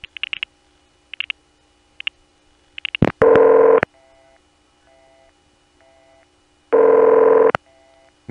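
Telephone sub-exchange ringing tone after dialing, a few short clicks and pulses followed by two loud steady ring bursts about three seconds apart, with a faint repeating tone between them and no voice.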